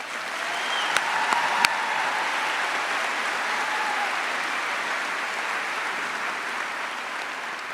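Steady, dense applause from a high school commencement audience honoring graduating military enlistees headed to the Air Force and Army, sustained at an even level throughout with a few sharper claps early on and no voices.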